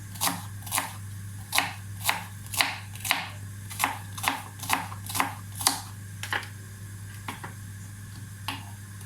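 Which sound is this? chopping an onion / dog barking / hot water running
chopping an onion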